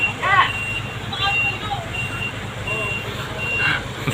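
A trailer truck with a 16-speed gearbox backs up, its reversing beeps chirping in short bursts over a steady low engine rumble. People talk nearby throughout.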